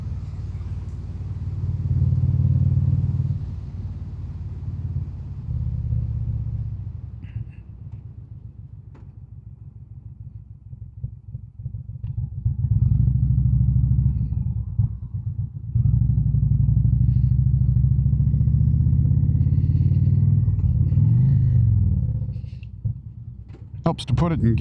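An Indian Springfield motorcycle carrying a passenger rumbles close while riding, its engine note rising and falling through long stretches of throttle, mixed with wind buffeting.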